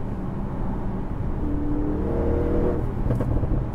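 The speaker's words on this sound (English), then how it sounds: "if I put it in dynamic mode, immediately it downshifts, it goes into sport mode, and the torque is on tap" A 2016 Audi RS7 in dynamic mode downshifts and pulls harder, its engine note rising in a steady climbing whir heard from the cabin, continuous and moderately loud with no talk.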